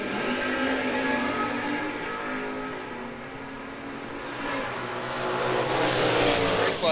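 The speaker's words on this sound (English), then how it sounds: "Dragster Shootout time trial." Dragsters roaring down side-by-side lanes during a time trial at a drag strip, with a sustained loud engine drone that dips in the middle and then swells again at a distance.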